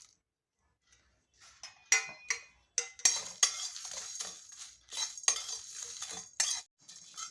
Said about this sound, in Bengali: এগুলো এখন ড্রাই রোস্ট করে নেব।